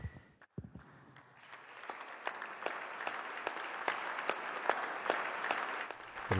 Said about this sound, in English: give a round of applause to both these gentlemen